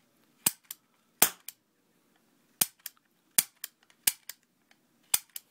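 A Hubley Atomic Disintegrator toy cap gun fires caps in sharp, close, loud cracks, mostly in quick pairs spaced a second or so apart, against a quiet background.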